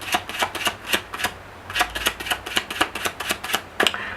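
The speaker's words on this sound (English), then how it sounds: "I'm just going to shuffle this card." Playing cards shuffled overhand in a card magic routine, giving a series of crisp, close riffling snaps in quick uneven bursts, with a short pause midway and no talking.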